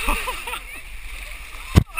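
Water splashes hard once near the end of a Tough Mudder obstacle course run in Toronto, a short loud burst that follows shouting and excited voices.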